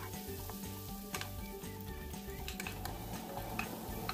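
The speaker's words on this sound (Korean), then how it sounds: "무는 최대한 많이 볶아주시면 좋으세요." Radish for a spicy pollock stew stir-fries in a pan with a constant close sizzle, broken by light ticks and scrapes of the utensil against the pan and no speech.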